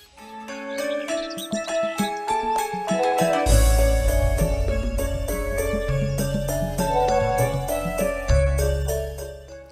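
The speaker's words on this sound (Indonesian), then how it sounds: "Eta HP dari tadi bunyi terus." A musical phone ringtone plays loudly and continuously, a melodic tune with a heavy bass line kicking in partway through.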